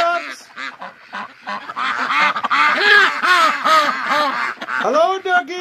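Several ducks quack in a lively, overlapping chorus, close by, with brief pauses between bursts of calls.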